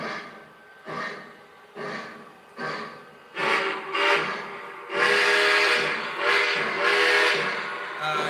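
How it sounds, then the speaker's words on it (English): Steam locomotive whistle blowing alone: several short, evenly spaced toots, then longer, louder blasts that run together near the end. "that whistle is just amazing"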